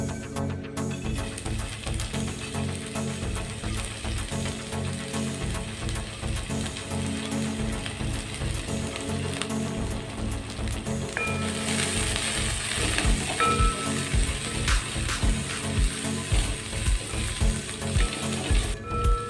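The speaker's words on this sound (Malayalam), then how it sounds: "അത് ചൂടായിരിക്കുകയാണ് അതിലേക്ക് നമ്മൾ സ്ലൈസ് ചെയ്ത് വെച്ചിരിക്കുന്ന ക്യാരറ്റ് ബീൻസും ഇട്ട് കൊടുക്കാം" Sliced carrots and beans dropped into hot sunflower oil, a loud, close, continuous sizzle and crackle that swells stronger partway through, with a faint rhythmic mechanical clicking beneath.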